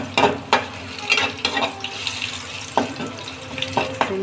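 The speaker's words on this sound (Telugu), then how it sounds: "సింపుల్గా ఇలా వేయించుకోవచ్చు." Bitter gourd (kakarakaya) frying in a pan, with steady close sizzling and a few sharp clinks and scrapes of stirring.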